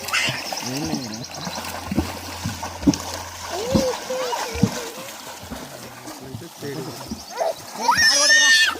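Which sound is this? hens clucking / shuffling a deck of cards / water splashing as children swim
water splashing as children swim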